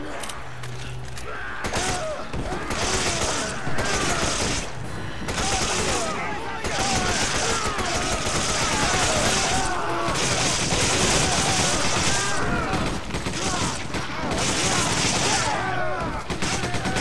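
Rapid bursts of AK rifle gunfire in the video game Resident Evil 5, loud and dense, with repeated volleys and brief pauses across the whole stretch, game noise layered beneath.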